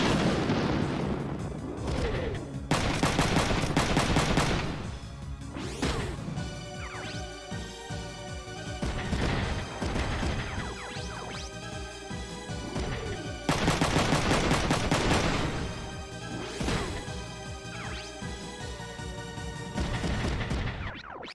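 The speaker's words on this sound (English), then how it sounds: "he's gonna return fire with a machine gun" Machine-gun fire in the mech strategy game Front Mission 3, with dense bursts of rapid shots and booming impacts layered over continuous game music, loud and sustained throughout.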